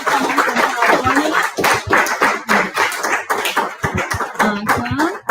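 Audience applause at a marching band alumni heritage night, a dense burst of close hand clapping with uneven rhythm, sustained throughout at a lively, fairly loud level.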